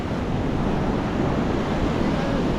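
Rough sea waves surge and wash around a small boat out on open water, a dense continuous roar mixed with heavy wind buffeting the microphone.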